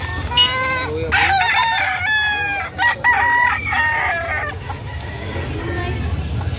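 A rooster crows several times over a noisy crowd at Carbon market in Cebu, with market chatter and voices continuing throughout.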